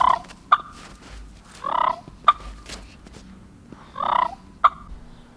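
A voice working a mouth call imitates a wild turkey hen's cluck and purr: sharp single clucks alternate with short rolling purrs, about three of each, close and clear against a quiet background.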